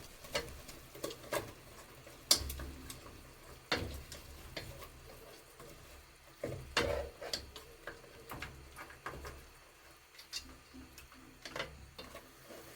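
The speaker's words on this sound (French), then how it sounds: "je remue un peu la viande et je verse le mélange ail-karvi" Meat being stirred in a pan with a garlic and caraway mixture thinned with a little water, for Algerian mderbel, giving quiet scattered clinks and scrapes over a faint low sizzle, with no talk.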